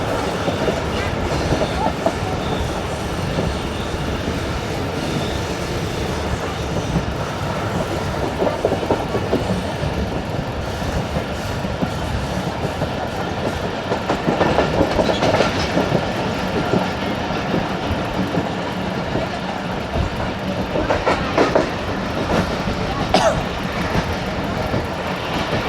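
A train rumbles steadily along the tracks near Quetta, Pakistan, passing a railway station, with a continuous roar and occasional rhythmic clacks of wheels over rail joints.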